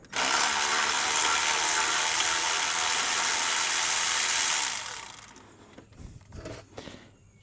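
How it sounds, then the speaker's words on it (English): An electric ratchet runs steadily for several seconds, backing out 15 mm water pump bolts on a GM OBS truck with a 5.0L/5.7L Vortec V8, then stops, leaving a few faint clinks and handling noises. "we can pull all four of them out with the ratchet"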